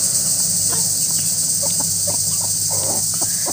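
Chickens cluck softly now and then among poultry, short scattered calls over a constant high insect-like drone and low steady hum.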